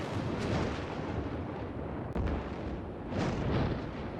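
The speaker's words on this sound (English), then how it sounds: "I like the thunderstorm probably the most" A thunderstorm rumbles over a city in Cities: Skylines, with deep rolling thunder and a sharp crack midway, all loud and sustained without any voices.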